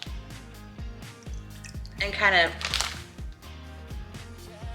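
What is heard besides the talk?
water dripping off raw fish being shaken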